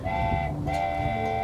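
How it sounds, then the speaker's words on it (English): A train sounds its horn in the hot desert near the Goldfield ghost town in Arizona, giving two sustained tonal blasts separated by a brief gap over a low rumbling background. "It's the sound of the train."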